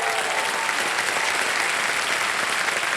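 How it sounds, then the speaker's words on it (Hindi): Studio audience at the KBC quiz show breaks into loud, dense applause, a steady wash of many hands clapping that holds unbroken for the whole stretch. "ताली बज जाए आपके लिए, इन्होंने बजा दिया"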